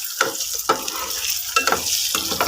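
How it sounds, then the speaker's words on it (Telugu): Eggs with garlic masala fry in a pan, giving a steady close sizzle broken by several sharp stirring scrapes of a spoon against the pan, with no talking. "చూడండి, ఇట్లా బాగా ఫ్రై అయి కావాలి."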